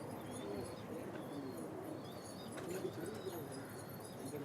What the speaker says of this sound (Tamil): இது வந்து ஒரு செங்கன் கலங்கா புறா